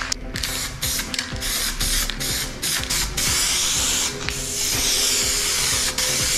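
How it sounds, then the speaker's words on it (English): Spray Max welding primer hisses from an aerosol can in long steady bursts with brief breaks, loud and close, broken by mechanical clicks, with no voices, during a VW T4 door handle restoration. "I'm going to use this Spray Max welding primer, corrosion shoot primer"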